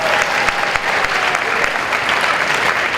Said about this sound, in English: Clap for a second.